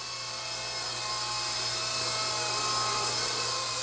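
A Blade 120 SR small RC helicopter hovers and flies steadily, its electric motor and rotor giving a continuous high whine and buzzing drone with a steady hum underneath, near and unbroken throughout.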